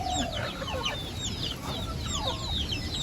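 Native country chickens in an enclosure cluck and chatter continuously at moderate volume, several birds overlapping in a busy, uneven rhythm.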